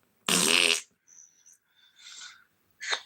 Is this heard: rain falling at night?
no